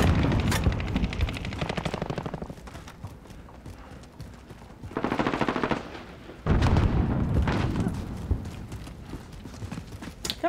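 Rapid gunfire from Call of Duty Modern Warfare multiplayer, loud clattering bursts in several close stretches with brief lulls between them.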